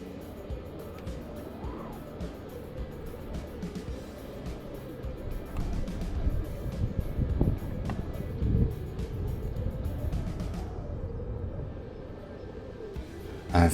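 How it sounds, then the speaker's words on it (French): Strong wind buffets an observation platform, a steady low roaring rumble with gusty swells that continues throughout, loud and close, easing slightly near the end. "Il y a pas mal de vent."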